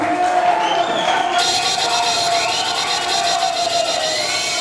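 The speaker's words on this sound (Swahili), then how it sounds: "tumpigie makofi kijana huyu" A crowd claps and cheers for a young man at a public event in Dar es Salaam, Tanzania, a steady loud wash of applause with a tonal hum running beneath it throughout.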